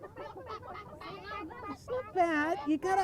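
Children at a World Egg Day gathering imitate chicken clucking with their voices, a burst of high, squawky calls rising near the end over lively chatter and talk.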